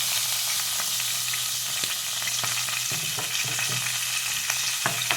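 Cumin seeds and asafoetida sizzling in hot oil for a Punjabi-style parwal sabzi, a steady close crackle with scattered sharp pops and light stirring taps throughout.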